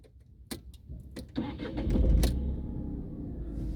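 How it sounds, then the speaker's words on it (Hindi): A Tata Tiago is started from inside the cabin: a few sharp clicks, then a short starter crank, and the engine catches into a steady, low idle. "अब गाड़ी को स्टार्ट कर लेते हैं।"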